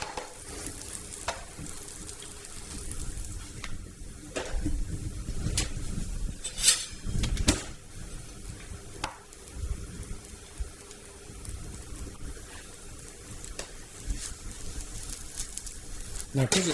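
An omelette with thyme oyster mushrooms, spinach and spring onions sizzles softly in a frying pan on low heat, a steady close crackle with occasional scrapes and taps, running under talk.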